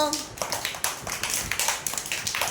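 Children clap their hands during a fruit-naming game, a run of quick, close, uneven claps with faint voices mixed in.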